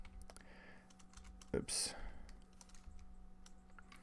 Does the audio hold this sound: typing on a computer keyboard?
yes